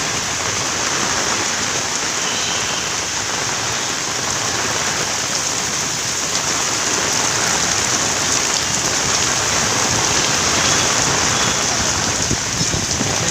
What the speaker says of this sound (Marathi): कंटिन्यू पाऊस चालू आहे सकाळपासून कंटिन्यू